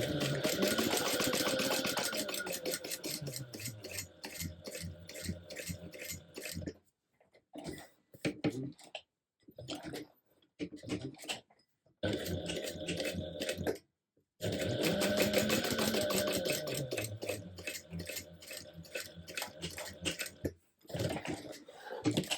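Sewing machine stitching the slip pocket onto a fabric shoulder bag, close and steady rapid needle clatter in two long runs separated by brief pauses and short bursts of stitching.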